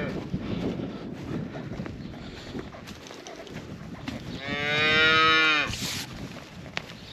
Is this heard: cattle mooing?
yes